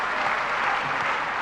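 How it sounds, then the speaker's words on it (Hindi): Audience at a religious question-and-answer gathering applauding together; a steady, dense wash of clapping from many people, loud and continuous through the short stretch with no speech. "तालियां बजा दो पहले इसके लिए।"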